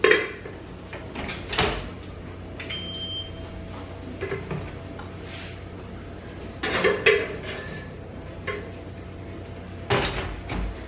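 Salmon going into a home oven: a clattering oven door and metal tray knocking and sliding, several sharp bangs spread across a quiet kitchen with a steady low hum.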